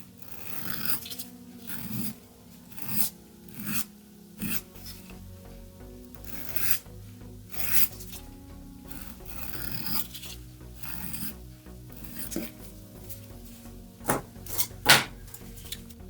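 A nail file rasps around the contour of a gel nail in short, close, repeated strokes, some quick and some spaced apart, with no talking.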